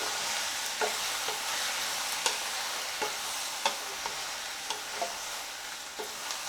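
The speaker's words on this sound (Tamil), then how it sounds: "அடுத்தது கட் பண்ணி வச்சுருக்கக்கூடிய தக்காளி போட்டு லைட்டாக ஒரு வதக்க வதக்கி விட்டுடலாம்" Chopped tomatoes sauté for Madras sambar with eggplant already in the pan, a continuous bright sizzle punctuated by regular scraping taps of a spoon stirring, close up.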